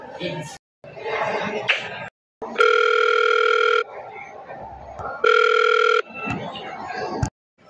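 A malfunctioning telephone line gives off two loud, steady electronic tones, each lasting about a second. A voice talks in the gaps between them.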